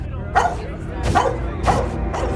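A dog in a street fight setting gives three or four short muffled barks and yelps at an even pace, close but somewhat masked by a dense rumbling background.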